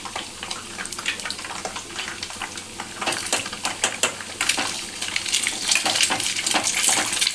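Food for Schezwan egg fried rice sizzles and crackles in a kadai, a steady hiss with sharp popping spatters that grows busier and louder toward the end.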